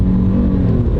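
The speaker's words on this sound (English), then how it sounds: "it makes the same exact noise as all the old Audi 5-cylinder engines" An Audi-derived five-cylinder car engine revs hard, a loud, steady, close throaty roar that holds for about a second without any voices.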